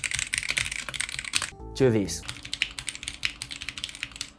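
Typing on an RGB keyboard with flex-cut sandwich mounting produces rapid clacking keystrokes before and after a modification, with a brief spoken phrase in the middle and dense, close clicking on either side.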